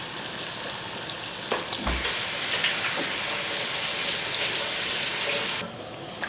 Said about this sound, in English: And let those fry on a high setting of 6 for a gas oven.